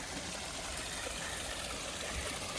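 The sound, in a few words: small waterfall trickling over moss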